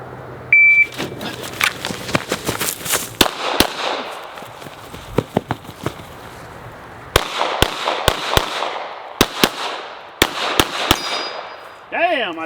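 A shot timer beeps to start a timed shooting drill, followed by rapid strings of sharp, loud gunshots in quick bursts with short pauses between groups, ringing and echoing at close range.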